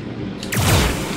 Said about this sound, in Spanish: ¡Oh, un super disparo!